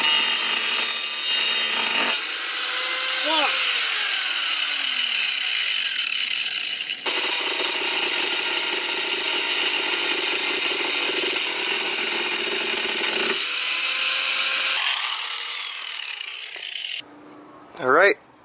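A power tool cuts through the fender of a Japanese JDM car, a loud, continuous grinding whine with shifting pitch that runs almost nonstop, then breaks off briefly near the end before a short final burst.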